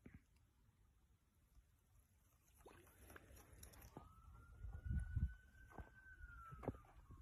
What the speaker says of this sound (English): That's an ambulance.